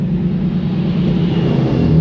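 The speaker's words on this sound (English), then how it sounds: "there's a bus coming the other way" A bus approaching on a narrow coastal road near Lulworth Cove, a close, steady low engine rumble that swells slightly as it nears, with no talk.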